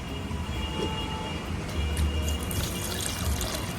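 Water poured into a blender jar or container while making lychee juice, a continuous close pouring and trickling rush with a low rumble, no speech over it.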